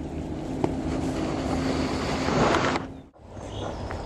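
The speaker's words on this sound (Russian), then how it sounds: "О, мужики на лодках уже пошли" Boats with fishermen out on Torbeevskoye Lake on a June morning, a steady broadband wash of motor and wind noise on the water that swells, then drops away briefly near the end before returning.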